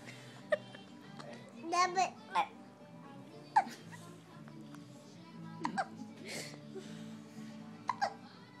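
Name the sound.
child hiccups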